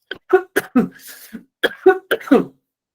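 A speaker coughs after drinking water during a lecture: a close, loud series of sharp, throaty coughs in two quick clusters, with a brief pause between them and no speech.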